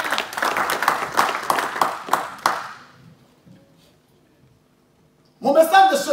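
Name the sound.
church congregation applauding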